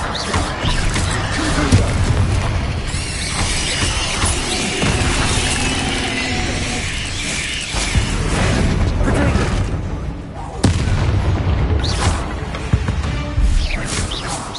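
Confringo spell blasts in the Hogwarts Legacy video game, loud bursting explosions and crackling impacts amid chaotic combat effects, with a voice speaking over the action.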